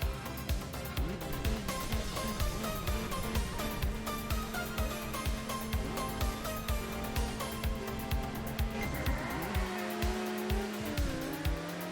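A Nissan GT-R race car drives hard, its engine rising and falling through repeated revs and gear shifts while tires squeal and screech toward the end, loud and close.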